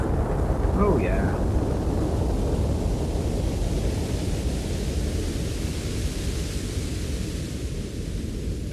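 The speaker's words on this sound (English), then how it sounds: "Starting the track with this sounds like synthetic thunder, doesn't it?" Synthetic thunder-like rumble opening a track from a 1971 album: a dense, steady wash of broad noise with deep low rumble, sustained loud and unbroken for several seconds, with a brief swirling tonal sweep near the start.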